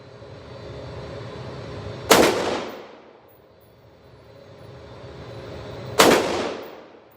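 A bullpup rifle chambered in 5.56 fires two separate sharp shots a few seconds apart at an outdoor range. Each crack is loud and followed by a fading echo over a steady low background hum.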